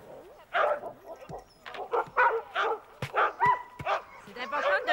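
Excited sled dogs bark, yip and whine in a rapid, overlapping chorus close by, with loud bursts packed throughout and a person's voice mixed in among them.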